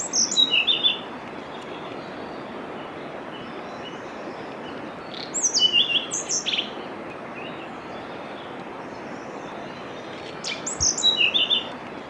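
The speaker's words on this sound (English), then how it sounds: "including this splendid male blue-throated blue flycatcher." A male blue-throated blue flycatcher sings in the Mangdechu Valley of Bhutan, giving three short bursts of high, sweet notes spaced several seconds apart over a steady hiss of rushing stream or forest noise.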